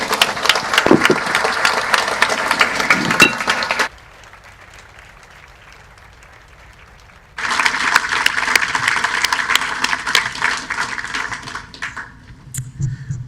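An audience applauds at a university ceremony: lively clapping, a few seconds of near silence, then a second round of applause before it fades out.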